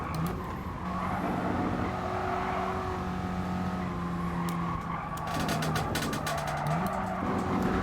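Race car engine held at full throttle in Gran Turismo Sport, a steady loud drone with gear-pitch shifts and some tire squeal over the whole stretch.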